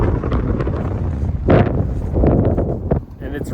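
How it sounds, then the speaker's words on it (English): Strong wind buffets the microphone in heavy, roaring gusts at a Colorado mountain spot, with a loud blast midway and some faint voices underneath. "And it's really windy."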